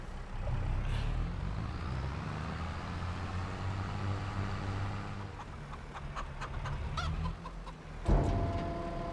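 Clucking chickens in a Farming Simulator 22 farm scene, a continuous busy flock chatter over a low engine-like rumble, with a short louder burst near the end and no talking.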